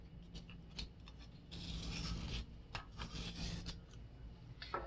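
A pencil turned in a sharpener while drawing, a close, soft grinding and rasping that rises for a few seconds, with small mechanical clicks and scrapes around it.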